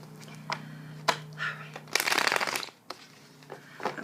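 Tarot cards shuffled by hand at close range: a few crisp riffles and taps, then one dense burst of rapid card flutter in the middle, with quiet pauses between.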